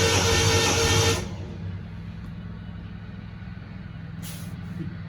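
A 1975 Triumph TR6 engine cranks over during a compression test, a loud rhythmic starter churn for the first second, then a lower steady rumble continuing alone with no talk.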